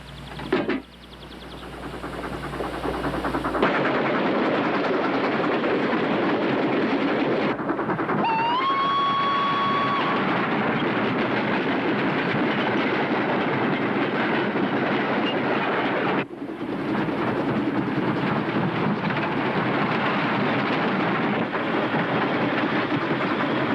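Continuous loud rumble and rattle of a steam train rolling along rails, with a brief rising whistle partway through and steady clattering throughout.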